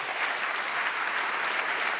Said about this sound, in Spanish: así que pido un nuevo aplauso.